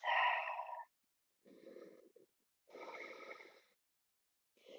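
Deep breaths during a yoga stretch: a sharp inhale followed by three softer, slow breaths, close and quiet with silence between them.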